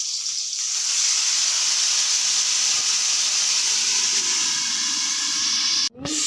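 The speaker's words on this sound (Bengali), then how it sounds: "বেগুনই তেলের মধ্যে দিয়ে দিচ্ছি" Eggplant pieces sprinkled with water frying in hot oil under a lid, a steady close hiss and sizzle that runs continuously before a brief clunk near the end.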